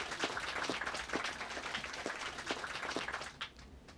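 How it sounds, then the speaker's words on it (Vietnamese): A seated audience applauds at a spiritual gathering, steady dense clapping filling the room for several seconds before tapering off near the end. "Bây giờ vỗ tay cho quý vị được rồi."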